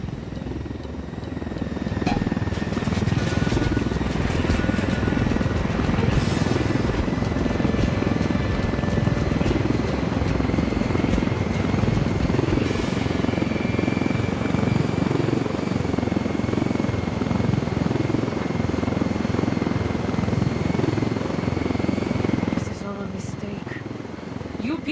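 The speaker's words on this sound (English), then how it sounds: "Let's take your helicopter." Helicopter in the video game Ghost Recon Wildlands, a loud, steady rotor drone and turbine whine heard close up that holds for most of the stretch before easing near the end, with voices talking over it.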